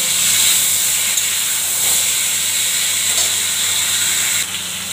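Mango pieces added to hot oil with cardamom, cloves and cinnamon for mango chutney hiss in a loud, steady sizzle that fills the whole stretch, easing off slightly at the very end.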